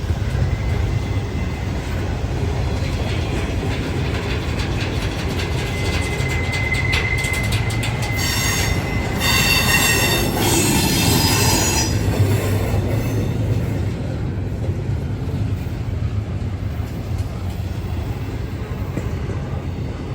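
A hard-working diesel train climbs a grade on the old Rat Hole Line in Kentucky, its engine droning low and steady while high wheel squeals rise and fade over the rumble, loud and close for the whole stretch.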